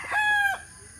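A fighting rooster gives one short, loud, close crow with a clear harmonic tone, standing alone over faint background noise.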